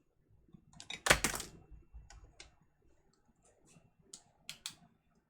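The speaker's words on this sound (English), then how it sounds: "So I'm going to write on the parchment." A pen scratching and tapping across parchment paper in a kitchen, a cluster of close, dry scribbling strokes followed by scattered lighter ticks and scratches, with no talking.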